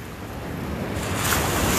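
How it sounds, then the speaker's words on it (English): Ocean waves break on the shore along the Goa coast as a steady, broad wash of surf that swells slightly louder toward the end, with some wind noise and no voices. "Like these waves."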